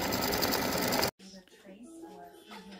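An embroidery sewing machine stitches a design on fabric with a fast, loud mechanical whir that stops abruptly after about a second, followed by a voice talking.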